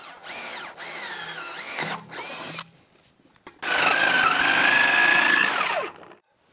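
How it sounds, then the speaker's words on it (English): A jigsaw cuts holes in laid-out pipes for a greenhouse climate battery, with two short buzzing bursts, a pause, then a longer, louder steady cut nearby. "So we're gonna try the jigsaw method here shortly."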